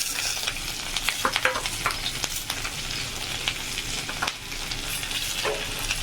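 Green chilies, dried chilies and garlic fry together in hot oil with a loud, crackling sizzle, while a spatula scrapes and stirs busily through the pan.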